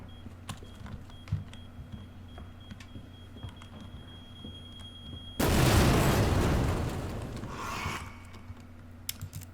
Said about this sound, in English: after I detonate gigantic blocks of C4